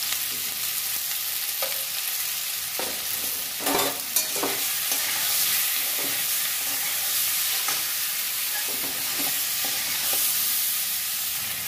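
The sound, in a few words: raw banana frying with salt and turmeric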